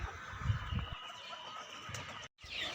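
Parent hens on a small home poultry farm cluck softly at feeding time in the afternoon, a few low calls in short bursts near and fairly quiet, with no talking.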